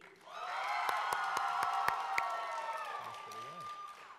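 Convention audience at a script reading applauding and cheering for Billy: a sustained, moderately distant wash of clapping and cheers with sharp whoops, fading toward the end as a voice speaks.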